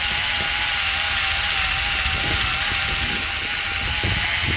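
An electric screwdriver bores holes into a block of soil, giving a steady loud motor whine with grinding, ratcheting texture throughout and no talking.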